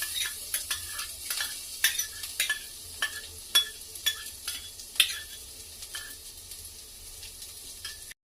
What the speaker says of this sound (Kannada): ಇವಾಗ ನಾನು ಚಿಕ್ಕದಾಗಿ ಕಟ್ ಮಾಡಿ ಇಟ್ಕೊಂಡಿದ್ದಂಥ ಹಸಿಮೆಣಸಿನ್ಕಾಯಿಗಳನ್ನ ಇದ್ರ ಜೊತೆಗೆ ಸೇರಿಸ್ತಾ ಇದ್ದೀನಿ.